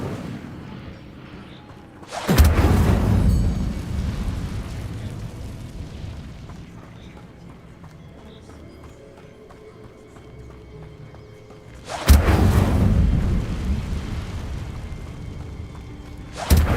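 Incendio fire spell cast in Hogwarts Legacy bursts out as two loud, deep whooshing blasts of flame, spaced about ten seconds apart, with a quieter rumbling lull between them.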